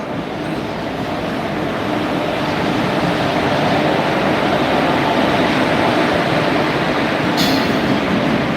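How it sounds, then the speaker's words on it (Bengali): A long freight train rumbles past steadily and loudly through Ghatshila station, India, a continuous roar of rolling wagons with a brief high squeal near the end. "মালগাড়ি মালগাড়ি সমস্ত মালগাড়ি বেরিয়ে যাচ্ছে"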